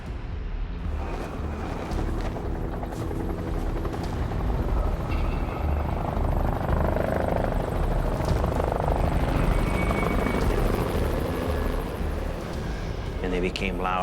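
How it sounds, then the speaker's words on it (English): Rotor noise of helicopters approaching in a snowstorm fills the background, a broad thrumming roar that swells somewhat louder toward the middle, with no talk over it. "And they became louder and louder."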